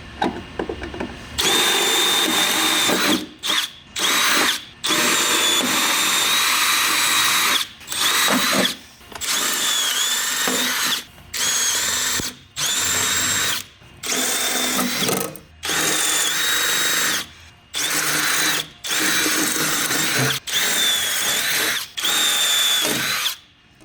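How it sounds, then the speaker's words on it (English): A power drill with a 3/16-inch bit whines loudly in repeated bursts, each run lasting a few seconds with short pauses between, drilling out metal rivets beneath a Patriot Boost engine bay at close range. "Now we are ready to drill out these with a 3/16 drill bit"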